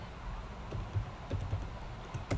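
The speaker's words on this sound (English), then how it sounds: "Then let me type product filter." Faint typing on a computer keyboard, entering a filter name into a sales dashboard: a few scattered soft key taps at irregular intervals over a low room hum.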